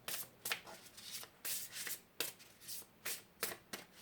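Tarot cards being shuffled by hand in a quiet room, a run of quick papery riffles and slides in irregular bursts, close and clear with no talk.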